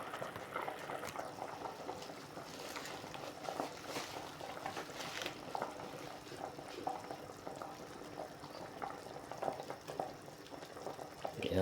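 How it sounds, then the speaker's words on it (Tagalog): A pot of tilapia soup bubbles at a steady boil, a continuous soft crackling and gurgling that stays fairly quiet and even throughout, with no talking over it. "Yan guys, kulo na guys."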